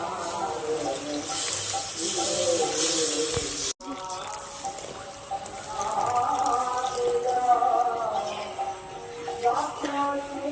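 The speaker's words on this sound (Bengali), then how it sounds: "এখন এর মধ্যে আমি আগে থেকে জ্বালানো দুধ দিয়ে দেব।" Boiled milk trickles and pours steadily into a pan of Marie biscuits for kulfi malai, a continuous liquid splash that briefly cuts out midway and then resumes at a similar level.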